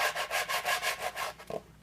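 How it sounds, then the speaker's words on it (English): A sanding block rubs back and forth across wood in quick, even strokes, about eight passes, close up, ending with a light knock. "I'll go over it a few times with the sanding block just to clean it up."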